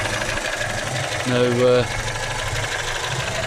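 A 1971 Volvo 145, revived after sitting unused for over ten years, idles with a steady low engine hum while people talk over it, and a short voiced tone briefly rises in the middle.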